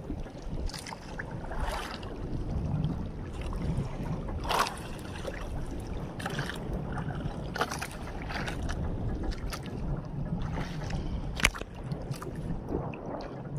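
Water sloshes and splashes steadily against a small boat's hull on waves, with wind buffeting the microphone and occasional sharper slaps.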